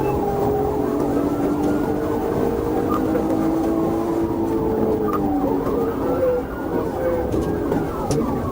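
Police car sirens wailing during a high-speed chase, several rising and falling tones overlapping continuously over road and engine noise, fairly close and loud throughout.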